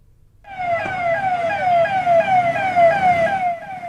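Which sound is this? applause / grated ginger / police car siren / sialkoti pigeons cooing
police car siren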